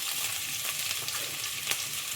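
Garlic and finely chopped ginger frying in hot oil for a crab masala, a steady close sizzle with faint crackles and one brief sharper pop, no voices.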